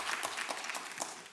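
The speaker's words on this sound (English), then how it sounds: "So a round of applause to them for all the hard work." Applause from an audience at a university partnerships summit, a short burst of dense, steady clapping filling the room at a fairly even level with no voices over it.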